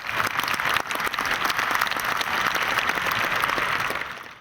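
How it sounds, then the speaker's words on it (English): Steady applause from a rally crowd at a gun owner rights march, dense clapping that holds strong for several seconds before tapering off near the end. "you can give yourself a round of applause for that one"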